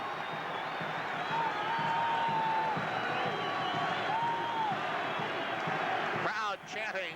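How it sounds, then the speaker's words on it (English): A packed 1981 baseball stadium crowd roars and chants for pitcher Len Barker during his perfect game, a dense sustained wall of cheering with rhythmic chant peaks, ending in a brief dip. "Crowd chanting, Lenny, Lenny."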